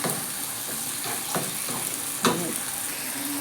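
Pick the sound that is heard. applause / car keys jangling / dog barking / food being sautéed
food being sautéed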